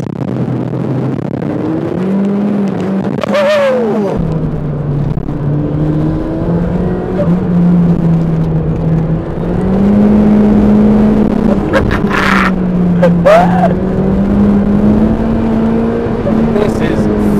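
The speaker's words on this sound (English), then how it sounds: "turbocharged Mark II MX5. And what an awesome little toy this is." A turbocharged Mark II Mazda MX5 drives with its engine humming and revving loud and close, the pitch rising and falling through gear changes, with brief sharp whooshes. Someone speaks over the engine.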